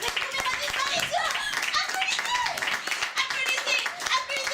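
An audience claps for a magic trick that made an assistant disappear, with dense, steady applause close by and lively voices and children's chatter mixed through it.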